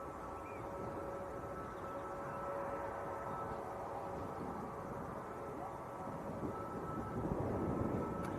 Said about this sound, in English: Certainly tell it's a Neo taxi now, can't you? It makes a very hollow sound.